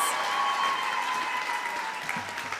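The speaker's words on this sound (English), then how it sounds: "Let's give him a big round of applause, as he so deserves." Applause from the audience at a 2019 university graduation ceremony in Windhoek, a steady dense wash of clapping that fills the hall and tapers slightly toward the end.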